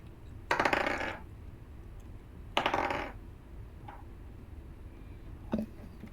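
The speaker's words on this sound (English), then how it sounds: "got my dice. I've got to roll for random encounters" Dice clatter onto a tabletop in two short rattling rolls about two seconds apart, followed by a faint tap and one more small click in a quiet room during a tabletop roleplaying game.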